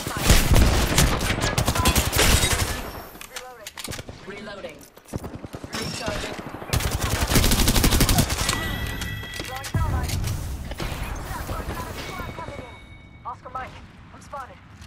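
Rapid gunfire bursts and single shots ring out during a match of Apex Legends, loud and dense, mixed with in-game effects, with spoken voices heard between the volleys.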